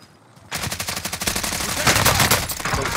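Rapid automatic gunfire from the video game Call of Duty: Rebirth Island rattles nonstop after a brief quiet start, a dense, loud burst of overlapping shots that continues for a few seconds.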